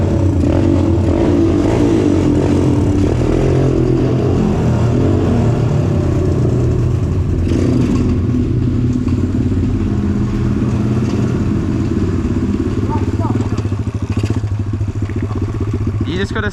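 A dirt bike engine misfires while revving on a bush trail ride, a loud continuous rough drone with uneven surges. Faint voices sit under the engine.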